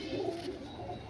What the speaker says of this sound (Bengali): এই হচ্ছে পায়রা